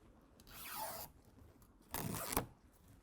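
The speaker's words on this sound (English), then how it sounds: "All right, now I can just go ahead and start peeling." Adhesive tape backing being peeled off a Husky Liners Low Profile Ventvisor for a 2024 Ford Ranger, two quiet, close, ripping peels about a second apart.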